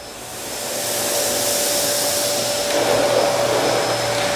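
A Miele Boost CX1 Parquet vacuum cleaner runs steadily at close range, a smooth even motor whoosh with a faint whine, rising slightly as it starts and then holding level throughout with no talk.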